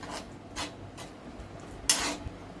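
Cornflour slurry being stirred quickly into cabbage Manchurian gravy in a pan, heard as repeated scraping, rasping strokes at close range with a brief louder clink of utensil against pan.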